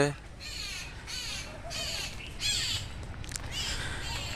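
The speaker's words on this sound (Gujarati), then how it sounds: "પક્ષીઓનો કલકલાટ છે" Crows caw repeatedly in loud, raspy bursts with smaller birds in the background at a tree-lined cow shelter ashram, Shree Jaya Amba Gaushala in Sidsar, Bhavnagar, while a person talks throughout.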